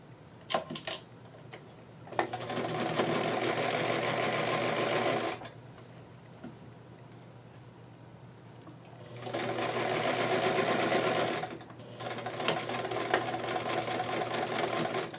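Sewing machine stitching the sleeves of a doll dress in rapid continuous bursts, close and fairly loud, with quiet pauses and a few clicks between runs.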